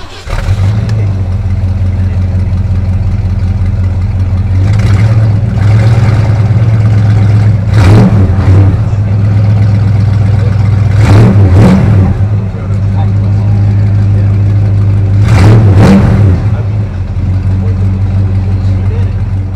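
A 1966 Ford Galaxie 500 on American Racing rims with custom-made dual exhaust rumbles at a steady low idle, swelling in four louder revs over about twenty seconds while faint voices are present.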